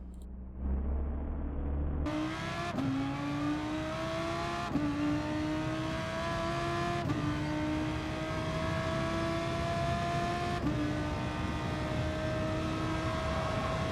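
A Gr.3 race car in Gran Turismo Sport at Spa-Francorchamps, its engine rising in pitch through several gears with sharp shifts between each pull, loud and continuous with no talk.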